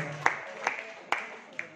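Clapping for a company at a women's product presentation: four sharp, separate claps spaced roughly evenly, close and distinct over a faint background murmur.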